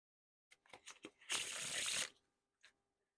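A deck of Sharks playing cards is fanned out face-up in one long, crisp, papery sweep, preceded by a few light card snaps and followed by a single soft tap, all close and alone.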